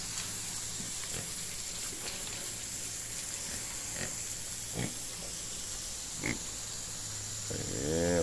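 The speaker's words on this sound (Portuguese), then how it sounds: "O Zé cuida muito bem aqui do chiqueiro, dos porcos." Pigs in a pigsty on a farm give sporadic low grunts, several separate short snorts scattered over steady background noise, moderately close, with no one talking.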